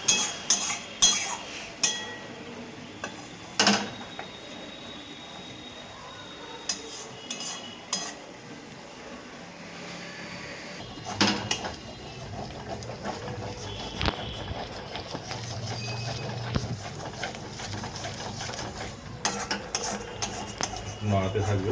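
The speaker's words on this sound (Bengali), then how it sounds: "নাড়াতে থাকবেন যাতে তলায় না লেগে যায়" Potato and cauliflower curry with cashews stirred in a kadai, with intermittent clinks and scrapes of a spoon against the metal pan and a faint sizzle, close and at moderate volume.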